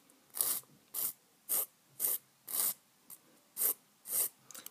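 A false nail is filed down to shorten it, giving eight or nine short, crisp rasping strokes in an even rhythm, close and clear with quiet gaps between them and no talk.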